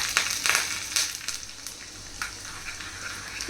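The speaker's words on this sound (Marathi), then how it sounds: "फोडणी छान आपले याच्यामध्ये आपल्याला छान फ्राय होऊन द्यायची हिरवी मिरची आणि मोहरी" Green chillies and mustard seeds sizzle and crackle in hot ghee for a tempering with curry leaves, giving close, bursty spitting pops over a steady frying hiss.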